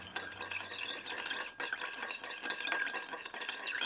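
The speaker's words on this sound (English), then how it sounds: "Give it a good stir" A spoon stirs sugar into a tempura dipping sauce to dissolve it, giving faint continuous scraping and light clinks against the bowl, quiet and close.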